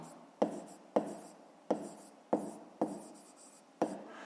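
Pen or marker writing by hand during a fifth-grade maths lesson, a series of six sharp strokes or taps at roughly even intervals, each followed by a short scratchy trail, close and fairly quiet with no talk.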